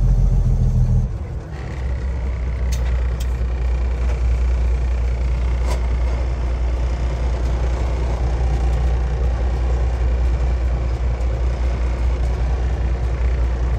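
A semi truck's diesel engine idles with a steady low rumble as the truck pulls into a lot, loud and close from the cab, with occasional faint clicks and no speech.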